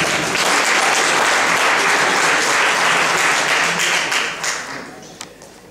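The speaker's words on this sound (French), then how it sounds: "Applaudissez à Tissou, s'il vous plaît." A live event crowd applauds a contestant at length in a loud, thick wash of clapping that stays full for several seconds, then fades away toward the end.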